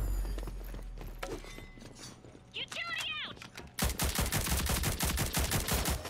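Rapid automatic gunfire in Rogue Company, a dense rattling burst of shots filling the last two seconds, loud and close, after quieter game sounds.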